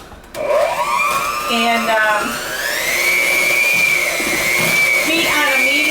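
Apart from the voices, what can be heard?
electric mixer beating eggs into dough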